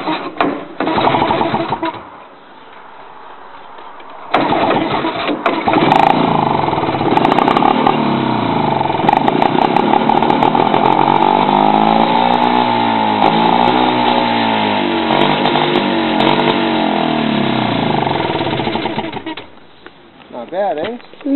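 An old Evinrude Norseman outboard motor sputters briefly, pauses, then catches and runs loudly with a rough, buzzing, steady drone for about fifteen seconds before dying down.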